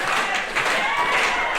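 A pro wrestling crowd claps and cheers at the opening bell of a women's match. The sound is a dense, steady wash of applause and crowd noise that fills the whole moment.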